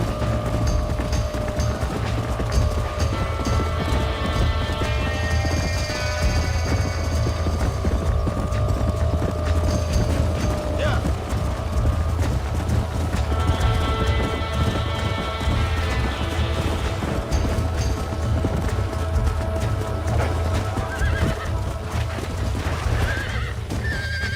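Horse hooves clip-clop steadily in Red Dead Redemption, mixed with a loud whinny and neighs, galloping rhythm close and continuous over game sounds, with no talk.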